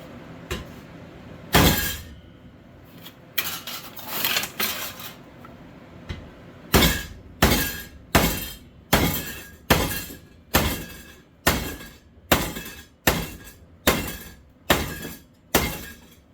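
A big hammer strikes steel being bent for a welding cart, first in a few irregular blows, then in a steady run of about a dozen loud, ringing hits spaced under a second apart, with no voices.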